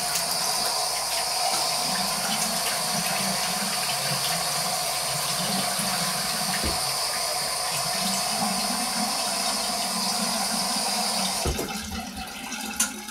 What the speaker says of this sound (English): let me start splashing some water on my face